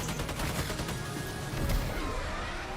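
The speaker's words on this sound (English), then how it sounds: "I think he just shot his own guy." Gunfire in the video game Death Stranding 2 crackles as a dense, continuous burst of shots, moderately loud and sustained for a few seconds, with no talk.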